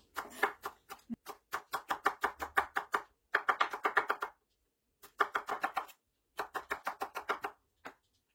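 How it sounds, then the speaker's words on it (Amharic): A knife finely chopping jalapeño peppers on a board, quick even bursts of crisp taps in several runs separated by short pauses, close and clear with no talking. "ይሄ ሀልፒኖ የሚባለው ቃሪያ እሱንም ደቀቅ አድርጌ ነው የምከትፈው እንደዚህ"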